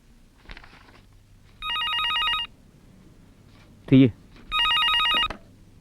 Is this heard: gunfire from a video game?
no